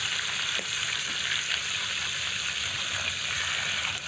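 Katla fish pieces frying slowly in oil inside a clay pot, a dense continuous sizzle held close and steady throughout, with faint clatter in the background and no talking.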